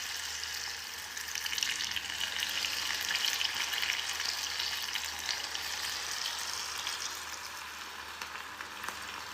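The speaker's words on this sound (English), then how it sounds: "you can see it's sizzling away, which means our oil is ready" Onion bhaji batter dropped by hand into hot frying oil sizzles steadily and briskly for several seconds, a dense crackling hiss without talk.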